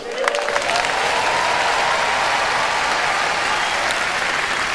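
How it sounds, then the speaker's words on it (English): An audience at a comedy show, A Night of 1000 Laughs 2012, bursts into loud, sustained applause that holds steady for about five seconds, a dense wash of clapping from a large crowd. "put your hands together for God Almighty"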